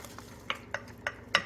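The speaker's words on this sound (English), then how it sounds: "So now we're going to add the broccoli and allow the broccoli to" Broccoli goes into a pan for soup, making quiet intermittent scrapes and clinks of stirring over a faint background, about five short strokes, the last the loudest.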